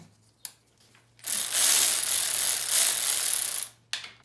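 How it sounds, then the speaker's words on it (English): An electric driver whirs steadily for a couple of seconds running down nuts on a Suzuki GSX-R motorcycle, close by, bracketed by short clicks and a brief burst of mechanical whirring at the start and end. "I'm going to run them down with the electric bit"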